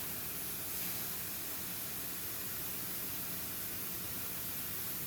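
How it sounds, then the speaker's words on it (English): A steamer releases dry steam in a constant, even hiss that fills the whole stretch at a steady level, broadband and unbroken. "It's a drier feeling steam."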